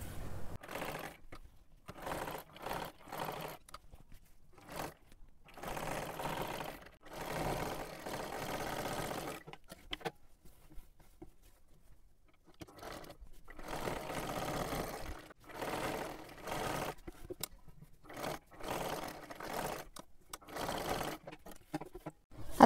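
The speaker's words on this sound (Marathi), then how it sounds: "आता हे सुद्धा आपल्याला पूर्ण व्यवस्थित शिलाई करून घ्यायचं आहे" A sewing machine stitches a kurti in repeated bursts of steady mechanical whirring, starting and stopping several times with short quiet pauses between runs, fairly close and moderately loud.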